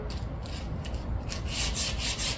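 Sandpaper rubbed back and forth along the edge of a freshly ground, still-hot mower blade, giving a close, steady scratchy rasp of repeated strokes that grows slightly louder toward the end.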